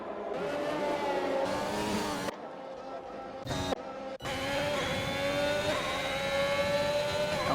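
Open-wheel sim race cars at the Baku street circuit howl past in a ZRL league race, loud engines revving and shifting up through the gears in sustained bursts, with brief cuts between camera angles and commentary talking over them.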